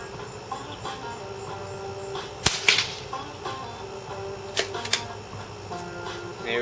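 A Henry US Survival AR-7 .22 rifle fires a single sharp, close shot at a target, followed by a few fainter clicks and knocks against a quiet outdoor background.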